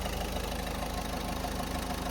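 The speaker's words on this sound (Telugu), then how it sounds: "బీడింగ్ కూడా వింటున్నారు కదా ఎంత సైలెంట్గా ఉందో బీడింగ్ అనేది" A Ford Fiesta's engine idles quietly in a smooth, steady low rumble with an even hum, heard close and alone without any voices.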